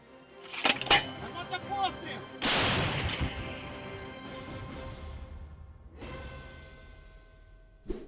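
A heavy blast from a captured Msta-B howitzer booms and rolls away at a firing position, with sharper bangs before it and another distant boom later; voices and background noise around.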